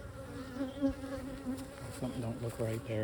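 Honey bees buzz close and constant around an open hive during an inspection, a wavering drone with someone briefly speaking over it.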